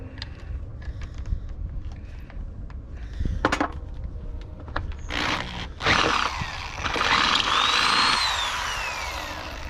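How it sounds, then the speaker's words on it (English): A forty-year-old power drill whirs in short bursts while working on a cab-over truck, followed by a longer loud grinding run with scattered clanks and handling noises. "we're still using the 40-year-old drill"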